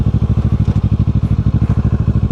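A motorcycle idles close by with a loud, rapid, evenly pulsing engine thump, steady and uninterrupted throughout.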